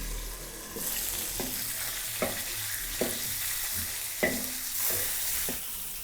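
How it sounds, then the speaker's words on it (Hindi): Food fries and sizzles steadily in a pan, with a few sharp clinks of a spoon stirring through the hiss; close and fairly quiet, no voices. "तकरीबन 3 से 4 मिनट हो गए इसको फ्राई करते हुए"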